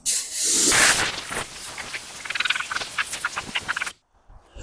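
A water sprayer washes down a ceramic-coated car. A strong steady hiss comes first, then a run of quick pulsing sprays as the jet moves over the panels, and it cuts off abruptly near the end.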